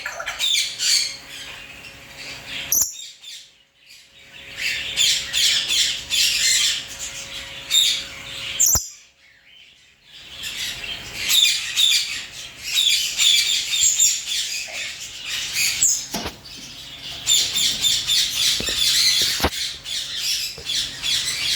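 Grey parrots, two females and a male kept together, squawk loudly and repeatedly at close range in harsh raspy bursts, with brief quiet gaps and a few sharp clicks between calls.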